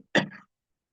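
Single short cough, close and moderately loud, a quick harsh burst lasting under half a second followed by silence.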